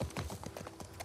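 Horse hooves clip-clop steadily and close in the video game The Last of Us Part 2, a quick run of rhythmic hoof beats over a low background hum.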